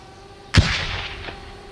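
A single sharp gunshot cracks out at moderate distance in a war zone, followed by a brief rolling echo that fades over a second.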